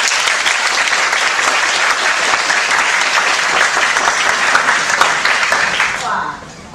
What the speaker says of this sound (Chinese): 请大家以热烈的掌声欢迎何老师。